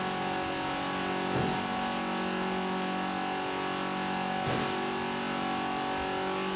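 A stock 1980 Fiat 124 Sport Spider engine holds a steady high-revving drone in Forza Horizon 4, with two brief shifts or dips in pitch as the car pulls hard, loud and close throughout.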